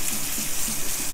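Cold tap water runs steadily into a sink right after bitter melon is blanched, a continuous close gush filling the whole moment with no talk.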